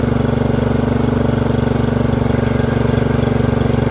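A Murray 30-inch riding mower engine fitted with a new carburetor runs close by, a loud, even, rapidly pulsing idle that stays steady throughout with no pauses.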